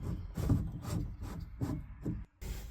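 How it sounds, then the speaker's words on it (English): Plastic cap being screwed back onto an Inta magnetic filter on a heat pump system, a series of quiet close rubbing, grinding twists in uneven bursts with brief pauses. "Put your cap back on."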